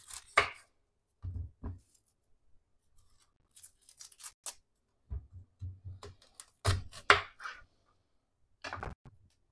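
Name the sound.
knife cutting an onion in half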